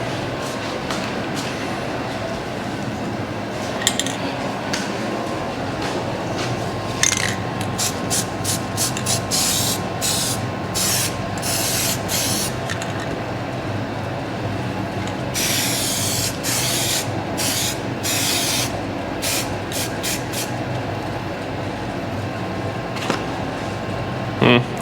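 Short hissing bursts of spray paint are applied through a stencil on a replica hood scoop for a 1955 car, coming in rapid clusters of close, sharp sprays amid ongoing background noise and people talking.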